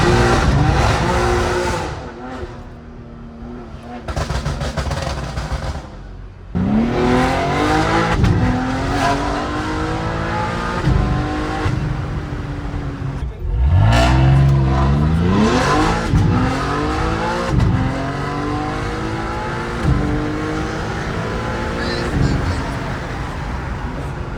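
A BMW M3 G80, repaired after a crash into a tree, revs and accelerates hard with loud, rising engine sweeps and gear changes, close and continuous, with brief tire squeal and some speech in the cabin.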